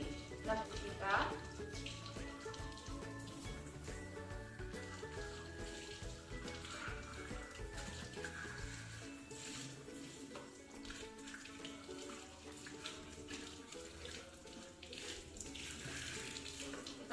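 A baby milk bottle nipple being washed under a running tap, a steady faint rush and splash of water with small handling noises, and a voice speaking over it.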